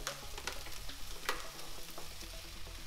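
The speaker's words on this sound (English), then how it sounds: "You see how the pepper, they got cooked, sausage is getting cooked" Sausage and peppers sizzle and crackle steadily in a pan at close range, with occasional stirring scrapes and no voices.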